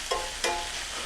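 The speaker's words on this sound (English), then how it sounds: "It's still sizzling a little bit, and that's fine." Cooked fajita vegetables sizzling softly in a frying pan after the heat is turned off, a steady crackling hiss with two small pops.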